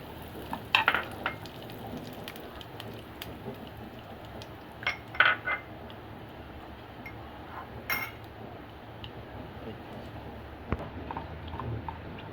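Cumin seeds and curry leaves sizzle softly in hot oil in a pan for a potato chaat, a low, steady frying hiss broken by a few light clinks of a spoon against the pan.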